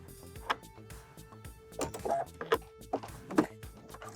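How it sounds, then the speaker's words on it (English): A sewing machine stitches a plain seam joining jersey knit to woven chambray, with a steady motor whir broken by uneven mechanical bursts and clatters, fairly close. "I'm just gonna sew a plain seam so that way we can see what's going to happen"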